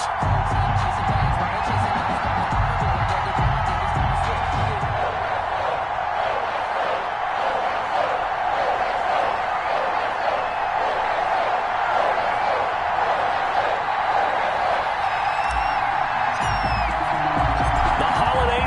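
A sold-out stadium crowd at an NFL game between the New England Patriots and Buffalo Bills keeps up a steady, distant roar and cheer while an announcer talks over it.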